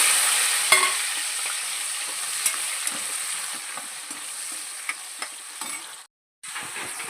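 Green chilies and onions, with a little cumin, fry in a pan with a steady, close, bright sizzle and the occasional stir or scrape. The sizzle cuts out for a moment near the end, then resumes.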